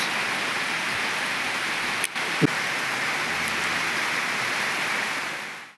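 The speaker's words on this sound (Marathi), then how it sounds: "बाहेर चालू आहे थोडा थोडा झमझम पाऊस" Steady rain falls outside a farmhouse as a constant, even hiss of close drops with no pauses, broken only by a couple of faint knocks, no voices.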